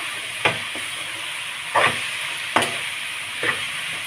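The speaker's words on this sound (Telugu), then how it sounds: "వేగినప్పుడే బీరకాయ ముక్కలు వేసేసుకుందాం. వేసేసుకుని ఒకసారి కలిపేసుకుని" Ridge gourd pieces are stirred into frying onion, tomato and green chilli in a pan. Four distinct scraping strokes sound over a steady, close sizzle, with no talking.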